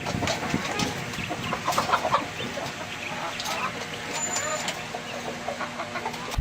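Twenty-seven-day-old White Rock and Egyptian Fayoumi chicks cluck and chirp in a poultry shop, their calls scattered over a constant rumble of nearby traffic.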